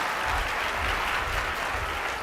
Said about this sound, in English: let's give Bob Gridelli one more round of applause